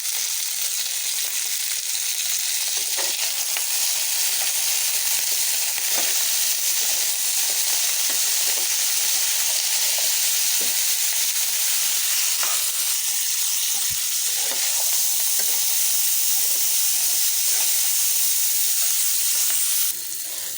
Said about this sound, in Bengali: সবজিটা সম্পূর্ণ ভাজা হয়ে গেছে।